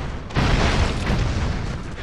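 A grenade explodes in the side-scrolling action game Broforce, a loud sudden boom that rolls into a sustained, noisy rumbling blast lasting well over a second, with no talk over it.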